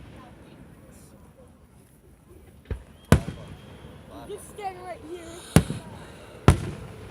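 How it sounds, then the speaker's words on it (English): Fourth of July fireworks burst in a few sharp, loud booms spaced seconds apart, with people talking nearby between the blasts. "comment down below if you can hear the fireworks"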